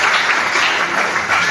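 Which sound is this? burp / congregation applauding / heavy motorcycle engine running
congregation applauding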